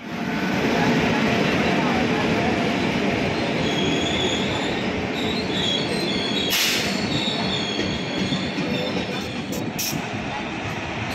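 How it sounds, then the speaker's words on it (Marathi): A passenger train rumbles steadily into a station, with broadband rail noise and a brief high wheel squeal, under faint background voices. "सो मित्रांनो, आपली ट्रेन आता आली आहे."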